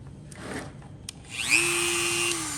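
A power grinder with a 44 millimeter stone spins up and whines steadily at high pitch, sharpening a demolition chainsaw chain, holding a constant tone for about a second before winding down.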